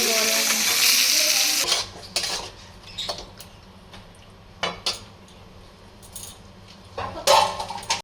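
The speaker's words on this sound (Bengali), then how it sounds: "মেয়েটার মাছটা ভেজে তোলা হয়ে গেছে, এবার ভাজা হচ্ছে।" Fish frying in a pan in a home kitchen, a steady sizzling hiss that is loud at first and then settles, broken by metal utensil clinks and pan scrapes.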